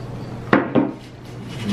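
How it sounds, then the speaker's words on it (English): Goldfish crackers stirred together with hot sauce in a dish: two quick, close scraping clinks of a utensil about a quarter second apart, then quiet, with no talking. "Mix it up with the hot sauce."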